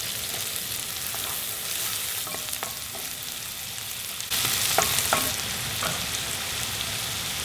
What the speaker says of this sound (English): I then like to add 2 tablespoons of butter for flavor.